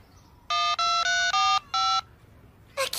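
Cartoon phone keypad beeps as a text message is typed: five bright electronic tones in quick succession, each a short steady chirp, close and clear, followed by a brief trailing electronic blip.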